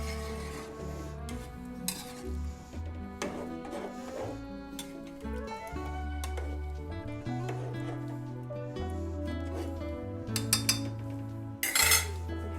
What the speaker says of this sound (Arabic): نحركها هيك عشان الرز ينزل تحت والفراخ تطلع لفوق.